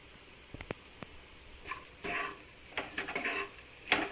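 Onions and spices are stirred in a pan, with a spoon clinking against the metal in a few sharp taps, then scraping and soft sizzling strokes that repeat close by.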